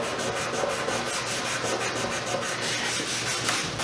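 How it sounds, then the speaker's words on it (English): A Scotch-Brite pad wet with denatured alcohol scrubs across a wooden surface, a steady close, rhythmic rasping rub with regular back-and-forth strokes. "So I'm just gonna come up here and just start scrubbing"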